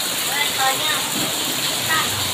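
Steady rain hiss at a roadside basecamp, a constant broadband wash of falling water with faint splashy texture, moderately loud, while people talk over it.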